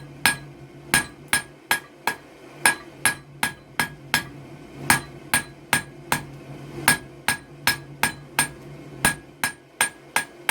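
Blacksmith's hammer forging and planishing a hot metal leaf hook on an anvil, a steady run of about two dozen sharp ringing strikes at roughly two per second, close and loud with no talk.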